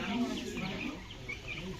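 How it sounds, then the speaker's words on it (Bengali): Chickens, white broilers and red local birds, cluck softly at a small farm while being fed, a low steady chatter with voices talking over it. "দেখেন মুরগিকে খাওয়া দিচ্ছে"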